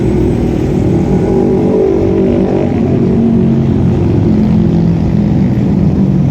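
A vehicle passes on a hot city street that is being crossed on foot, heard as a loud, steady, close rumble of engine and road noise that fills the whole stretch without a break.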